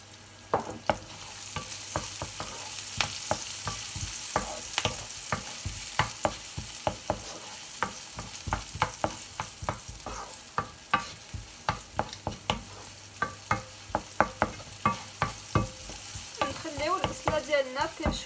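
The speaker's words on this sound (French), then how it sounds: "On laisse nos oignons caraméliser." Onions sautéing and caramelizing in a pan, stirred now and then, give a steady close sizzle broken by frequent sharp scraping clicks of a utensil, with no voices.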